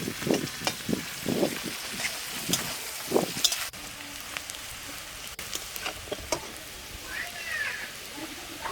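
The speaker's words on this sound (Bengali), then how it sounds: "পেঁয়াজটা ঠিক এইভাবেই ভেজে নিয়েছি।" Two medium onions with five-spice frying in oil in a pan, a steady soft sizzle with clustered bursts of stirring early on, then calmer crackling.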